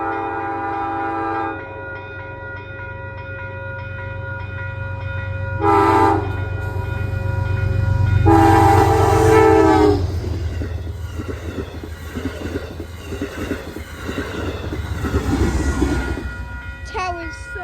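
A train led by three heritage locomotive units passes with a deep, rumbling roar. Several loud horn blasts sound over it, along with rail clatter that rises and fades.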